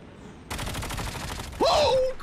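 A rapid burst of automatic gunfire in Call of Duty Mobile, a tight cluster of shots at close range, followed by a brief sharp electronic game effect.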